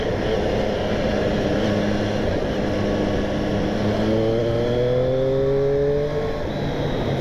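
A 2020 Triumph Street Triple S 660 motorcycle's engine during a road ride, a loud steady drone with wind rush, pitch climbing through the revs then dropping at a gearchange near the end, heard from on board.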